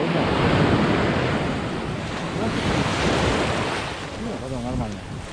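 Black Sea surf breaking on a Sochi beach in January, a steady loud wash of waves with wind buffeting the microphone throughout and brief talk near the end.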